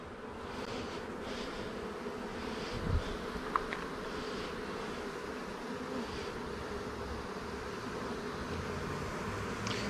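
Honey bees swarm around a hive box after being moved from a swarm trap into a 10-frame hive, their steady, dense buzz filling the air continuously with a few brief louder passes close by.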